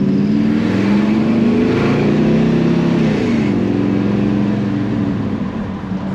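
A Chevrolet Chevelle V8 revs hard under acceleration, a loud, close, continuous engine roar with rising and falling pitch swells across the run.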